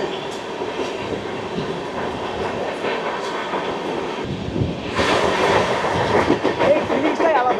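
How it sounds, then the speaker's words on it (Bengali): The Shalimar–Chennai Mail express passes along the tracks nearby, a rushing roar with rhythmic clickety-clack of wheels that swells louder partway through. "শালিমার থেকে চেন্নাই মেল"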